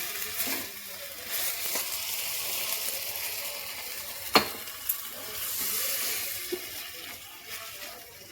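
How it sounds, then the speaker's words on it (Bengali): Chicken mince sautés in a hot pan with a steady, close sizzle, broken by scraping stirs and a few sharp clicks of a utensil against the pan, with no talking. "একটু কষাবো, কষিয়ে একটু জল দেব।"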